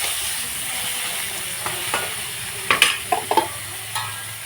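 Eggplant frying in oil with salt and turmeric, a steady bright sizzle with a cluster of sharp spatula clinks and scrapes near the middle, close and fairly loud, no talking.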